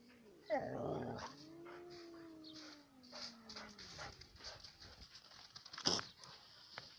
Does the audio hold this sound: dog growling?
yes